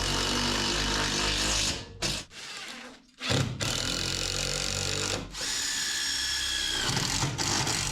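A power drill drives bolts into a garage roller door, loud sustained whirring bursts broken by short pauses and a couple of brief stops, close by with no talking.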